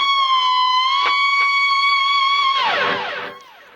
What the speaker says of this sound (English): Bend up a whole step and back.